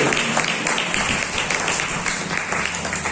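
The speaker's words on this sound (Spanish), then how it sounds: "esos aplausos son para Él" A church congregation applauds during a sermon, a dense, steady wash of many hands clapping together, sustained and fairly loud throughout with no voices standing out.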